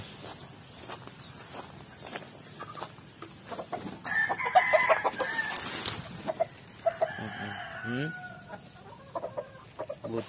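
Gamecock chickens cluck and a rooster crows nearby, with several bursts of calls in the middle and a quiet voice briefly in the background.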